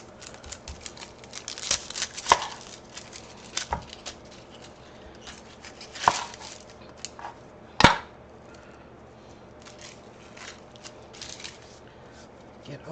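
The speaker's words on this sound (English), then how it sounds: "I think I'll cut the onion first." A knife chops an onion on a board at an outdoor cooking setup, giving scattered sharp cuts, mostly light with a few louder strikes, over quiet background noise.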